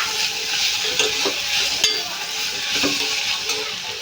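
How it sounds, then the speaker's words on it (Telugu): Onions sizzle steadily in an oil-filled pan for a chicken curry, with a constant hiss and occasional scrapes from stirring, close and fairly loud. "ఉల్లిపాయలు అయితే ఫ్రై అవుతున్నాయి"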